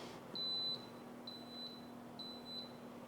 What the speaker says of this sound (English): when it's finished, you will hear it beep